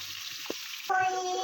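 Onions hit hot oil with cumin and bay leaf in a kadai (wok) for a meat curry. A steady, close sizzle is heard, with one soft knock, then a brief tonal whine near the end.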